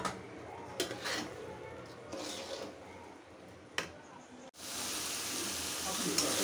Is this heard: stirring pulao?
yes